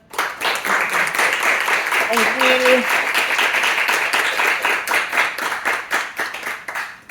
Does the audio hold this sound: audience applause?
yes